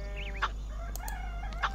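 Cartoonish chicken clucks and squawks from the video game Tiny Thief, a few short bursts over a steady musical background hum, moderately loud with no voices.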